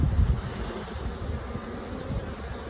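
Honey bees buzz on a frame lifted from a hive, a faint steady drone close to the microphone with some wind rumble at the start.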